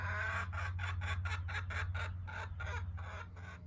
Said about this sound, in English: And the chickens are saying hello.